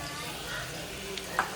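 Tomatoes are stirred in a frying pan for chicken pulao masala, a quiet sizzle with soft scraping and a brief louder clink near the end.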